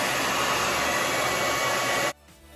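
A Revlon hair dryer with diffuser runs on the hot and high setting, giving a loud, steady airy roar with a high whine that cuts off abruptly near the end.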